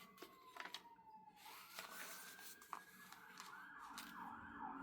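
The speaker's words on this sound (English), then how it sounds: "Got sirens going by." Sirens passing by outside, faint wailing tones sweeping up and down in the distance beneath indoor rustling and small handling sounds.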